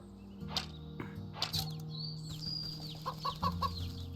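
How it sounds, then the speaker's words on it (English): Chickens in the video game Wytchwood clucking softly, a few short scattered clucks and chirps over a quiet low game background hum. "Oh, look at the little chickens."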